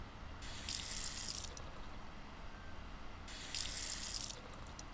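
A water tap runs in the futuristic survival video game Stars End, with two steady bursts of rushing water, each lasting about a second, separated by a quiet pause.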